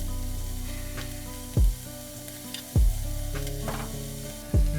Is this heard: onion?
yes